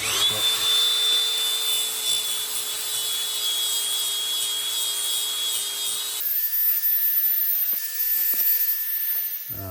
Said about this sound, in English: Sharpen these with a grinder. You can use a file, doesn't matter.